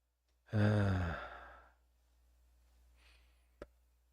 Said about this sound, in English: Oh, yes, I am yawning here now.